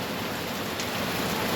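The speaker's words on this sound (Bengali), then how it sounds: "খুব বৃষ্টি, আর তার সঙ্গে একটু হাওয়াও দিচ্ছে।" Heavy rain with some wind forms a dense, steady hiss of broadband noise, continuous and fairly loud, with no voices.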